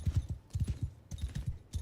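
A horse gallops in Mount & Blade Bannerlord, its hooves beating in quick, steady clusters of muffled thuds for about two seconds.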